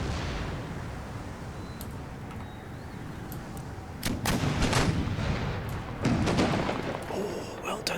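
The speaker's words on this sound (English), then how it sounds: "Oh, the mortars are an absolute menace." Mortar artillery booms in the Empire: Total War strategy game, with several deep blasts and crackling impacts over rumbling battle noise, the heaviest volleys in the second half, fairly loud.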